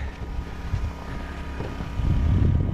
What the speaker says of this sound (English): All right, let's see if the tractor starts.